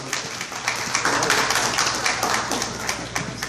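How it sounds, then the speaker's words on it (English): Applause from the audience at a domestic violence program event, dense patter of many hands clapping steadily at moderate volume with a low hum underneath. "Let's give a round of applause for Miss Anzawa"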